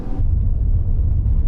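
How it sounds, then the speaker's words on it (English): A truck towing a trailer cruises down a road, giving a low, steady engine and road rumble that sits close and continuous after a brief louder start. "cruising down the road"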